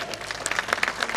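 A festival crowd at an open-air folklore event in Lavello applauds for a playing card during a magician's trick, giving a very short, moderately quiet burst of scattered clapping.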